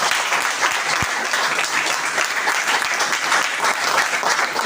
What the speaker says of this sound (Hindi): आपकी तालियां बताएंगे ट्रेनिंग कैसी थी।